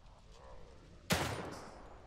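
A single sharp gunshot in The Evil Within 2, a sudden loud crack that decays over about a second after a quiet lead-in.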